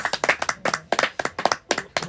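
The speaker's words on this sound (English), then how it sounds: "Give them a big round of applause." A small studio audience claps for a pub-quiz comedy show, giving about two seconds of distinct, close hand claps in an uneven rhythm without speech.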